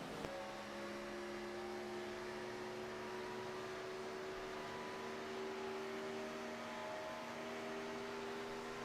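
An on-board race car engine from the iRacing video game at Indianapolis holds a steady, faint high-pitched drone with a constant tone and little change, no commentary audible.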